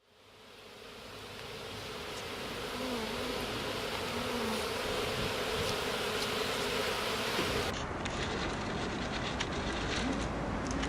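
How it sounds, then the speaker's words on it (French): Bees swarm at a beehive, a dense continuous buzzing that swells in the first seconds and then holds steady, close and busy with no voices. "C'est la maison des abeilles, on appelle ça une ruche."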